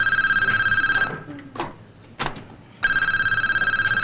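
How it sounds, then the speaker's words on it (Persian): A telephone rings loudly in repeated electronic bursts, stops while someone shouts indoors, then starts ringing again. "بابا یکی این تلفن رو جواب بده."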